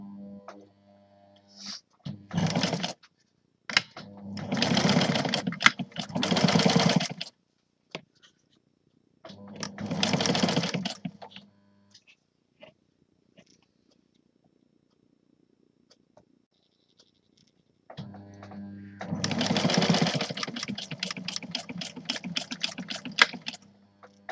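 A sewing machine stitches the shoulder seams of a blouse in several rapid bursts of close, whirring needle clatter, separated by short silences, with no talk.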